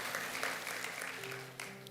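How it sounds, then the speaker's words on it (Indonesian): A church congregation claps in praise to God, a soft, distant patter of applause with sustained musical tones underneath. "Berikan tepuk tangan buat Tuhan."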